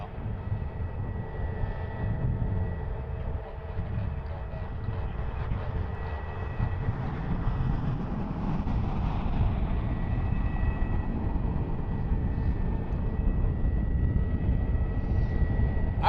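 A jet aircraft roars steadily at Cleveland Hopkins airport, a broad continuous rumble that swells gradually and holds, loud and outdoors, with no talking over it.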